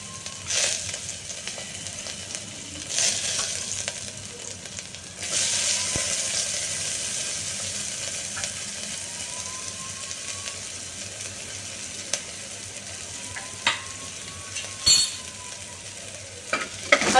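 Onion, ginger, garlic and chili fry in a pan with a steady soft sizzle throughout, brightening briefly as ingredients go in, along with occasional light clinks of a utensil.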